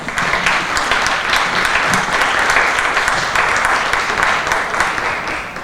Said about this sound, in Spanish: Demos un fuerte aplauso a nuestros invitados.